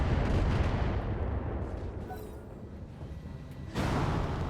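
Missile salvos in the mech combat game BattleTech come as a dense rumbling barrage of launches and impacts that eases briefly, then surges back loud near the end.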